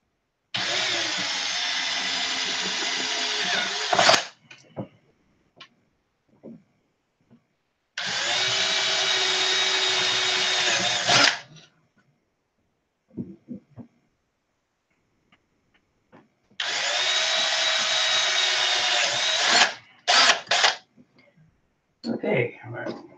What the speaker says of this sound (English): I'll drill out the bell crank to fit that tubing.